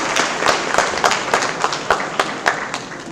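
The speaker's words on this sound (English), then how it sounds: "We give all of them a big round of applause" A crowd applauding steadily at an academic building inauguration ceremony, dense clapping at an even level throughout with no voices on top.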